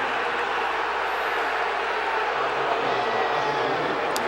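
A stadium crowd at a Texas at West Virginia college football game roars and murmurs in a steady wash of noise, swelling as fans call for a penalty flag.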